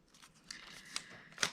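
Scissors snip through a paper planner sheet, trimming off a stray chunk along the edge: a few quiet, crisp cuts with faint paper rustle, close by and alone.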